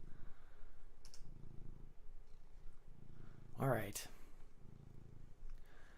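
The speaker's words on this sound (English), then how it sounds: "If you hear a little purring, that's him. He's a purr machine." A soft, rhythmic purr pulses low and close in repeated waves, with a brief spoken word partway through.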